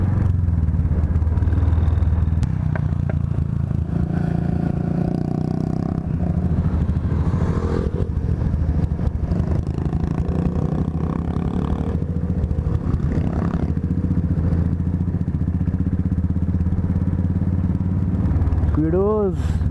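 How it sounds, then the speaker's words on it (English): Royal Enfield motorcycle descending a highway on a ride from Lonavla to Mumbai, its engine and wind noise forming a steady loud rumble throughout, with occasional rattles and a rider's voice now and then. "Kudos, that is Royal Enfield which you are riding."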